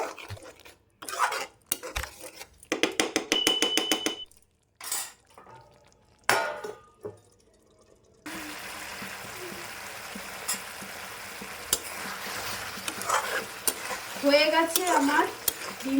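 Egg curry stirred in a pan with coriander leaves over a low flame: a spatula clatters and scrapes in quick bursts, then a continuous close sizzle with further scraping takes over, and no one speaks.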